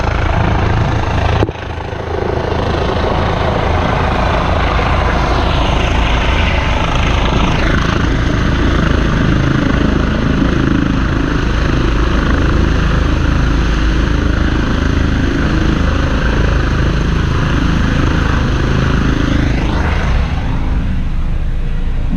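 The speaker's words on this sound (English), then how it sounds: "Oh yes, a Mitsubishi helicopter," A Mitsubishi helicopter drones steadily overhead, its rotor and engine roar constant and loud throughout, with no voices.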